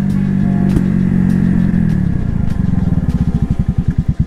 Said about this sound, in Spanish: Vamos a hacer aquí una prueba de frenado, a ver qué tal responden los discos a 60 kilómetros por hora.